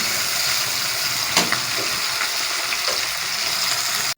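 Green chillies and tomatoes fry in a pan with a loud, continuous sizzle and crackle, close up, with a few soft stirring scrapes and no talking.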